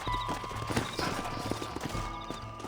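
Horse hooves clip-clop in a steady rhythm in Red Dead Redemption, with ambient outdoor noise and a faint murmur underneath.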